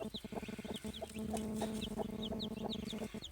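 An Indian breed hen clucks steadily as she gathers her chicks, a dense run of low repeated clucks with high chick peeps scattered over them, close and continuous.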